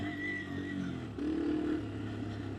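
Yamaha TW200 dual sport motorcycle on rutted, rocky dirt trails, a steady engine drone that swells briefly as the throttle opens and then settles, heard from the rider's position with no talk.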